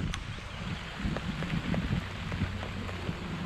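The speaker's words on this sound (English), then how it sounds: "It's starting to rain." Light rain begins falling outdoors beside a parked Chevrolet Silverado, a soft steady patter with scattered drops and some wind, no voices.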